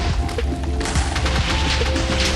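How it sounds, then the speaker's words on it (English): A custom Minecraft bow fires fireballs in a rapid volley of booming blasts and crackling impacts, dense and loud throughout with no speech. "it shoots fireballs"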